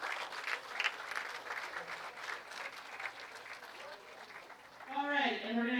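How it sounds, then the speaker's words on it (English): A bowling event audience at Bowl-O-Rama in Reading breaks into steady, dense applause that carries on for several seconds before fading as a voice starts speaking near the end. "So please give them once again a nice round of applause."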